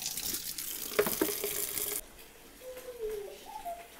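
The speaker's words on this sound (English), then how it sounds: "I gotta get a bowl of cold water." Cold tap water runs into a bowl at a kitchen sink during tomato canning, a steady hissing splash for the first two seconds before cutting off, leaving quieter room sound.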